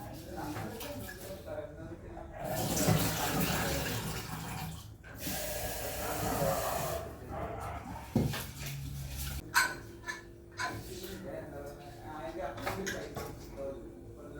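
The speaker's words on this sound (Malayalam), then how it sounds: "വെള്ളപ്പയർ നന്നായിട്ട് വറുത്തത് ചൂടുണ്ടിട്ടോ കഴുകിയെടുക്കട്ടെ" Roasted white beans are washed under running water, with gushing bursts of water and some dish clatter in a home kitchen while someone talks over much of it.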